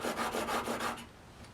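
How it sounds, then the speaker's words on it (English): A plane iron is rubbed back and forth on a sharpening stone in about seven quick, even, rasping strokes that stop after a second, close and fairly quiet. "when you're sharpening, you just want to go until you can feel a burr on the edge of the iron"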